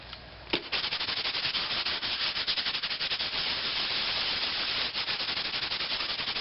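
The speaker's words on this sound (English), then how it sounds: "Now I'm going to sand it off." Steady hand sanding of glazing and spot putty over a rust repair on a car body panel, a continuous near, loud abrasive rasp with rapid back-and-forth strokes after a brief start.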